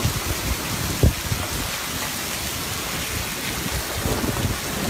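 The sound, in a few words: hail falling on a village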